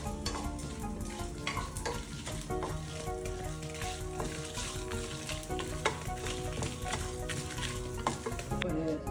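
Pepper, cumin, fenugreek and chili powder fry in a pan for a South Indian bitter gourd curry, giving a steady dense sizzle with scraping stir strokes throughout and no talking.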